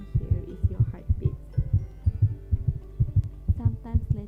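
Steady heartbeat thumping in a quiet kitchen, a regular double-pulsed low throb repeating about twice per second, close and soft, alone with no talk.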